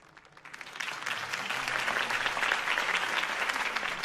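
A large crowd in Batman: The Telltale Series applauds steadily, the clapping swelling in after a quiet start and holding at a full, dense level.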